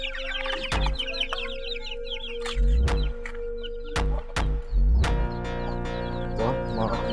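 Upgraded native chickens in a small backyard in the Philippines cluck and chatter in short, close bursts, with several dull thumps and a steady background hum.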